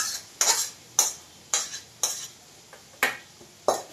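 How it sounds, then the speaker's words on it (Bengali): Goat mutton goes into a kadai, and a metal spatula scrapes and clinks against it about every half second in a regular stirring rhythm over a faint sizzle. "এই কড়াইয়ে আমি বসাবো মাংস।"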